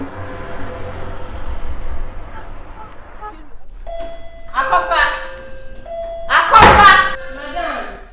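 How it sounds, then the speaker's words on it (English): A doorbell sounds twice with a sustained electronic tone indoors, between stretches of voices, with a loud knock or door slam near the end. "did you hear the bell?"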